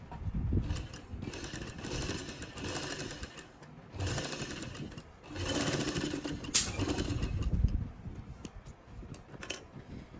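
A sewing machine stitches a garment neckline in several steady whirring runs separated by brief stops, close and fairly loud, with a sharp click or two near the end of the runs.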